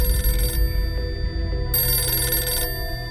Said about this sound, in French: Le téléphone sonne chez Marion.